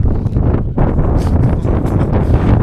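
Loud gusts of wind batter the microphone on a mountain track near Everest, a dense, steady rumble with a brief dip before it surges again.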